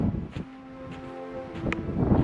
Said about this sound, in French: oh il y a du vent, j'espère que vous entendez pas trop